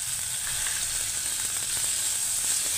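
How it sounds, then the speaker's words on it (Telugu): Tomato pieces fry with onions and green chilies in a pan for a fish curry, making a steady, even sizzle close by and uninterrupted. "ఇవి కూడా బాగా వేగాలి."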